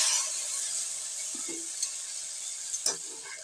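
A ground paste of poppy seeds, mustard and sesame with green chilli fries in a pan, a quiet steady sizzle with a few light scrapes and taps from stirring.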